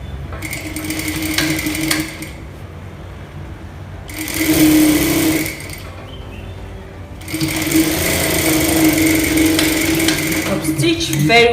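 A sewing machine stitches fabric for a face mask in loud, steady whirring runs that start and stop, with short pauses between bursts.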